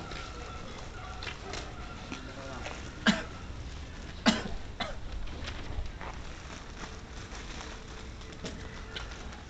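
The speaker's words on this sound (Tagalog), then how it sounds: "inuubo na ako" Two short, sharp coughs about a second apart, close to the microphone, over a steady background hum.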